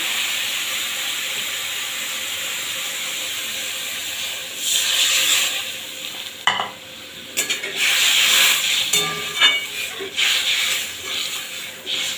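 Black cumin paste for a pabda fish curry hisses steadily in a hot pan, swelling into louder sizzling bursts with a few sharp clinks of the spoon against the pan partway through.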